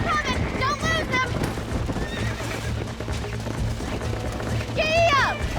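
Wild horses in Red Dead Redemption whinny in loud, high neighs near the start and again near the end, over a steady drumming of hooves as the herd gallops, with someone shouting over the chase.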